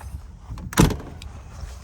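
An RV door swings shut with one solid thud just before the one-second mark, followed by a faint click, with quiet ambient noise around it and no talking.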